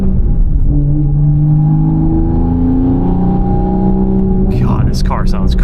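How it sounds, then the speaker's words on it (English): A Toyota Supra with a full titanium exhaust, making 840 wheel horsepower on E85, drones and revs steadily at close range, its deep exhaust note rising slightly, with a brief burst of higher noise near the end. "This car sounds crazy. It's got a full titanium exhaust."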